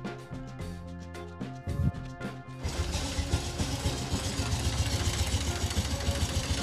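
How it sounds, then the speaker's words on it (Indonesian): An original Honda Revo motorcycle engine cranks with a few sputters, then catches and runs at a rough idle with rapid knocking and rattling, loud and close. "Mari kita coba hidupkan motornya."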